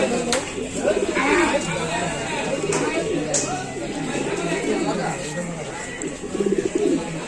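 Pigeons coo in low throaty rolls at a busy bird market after rain, heard under nearby chatter and someone talking over the birds.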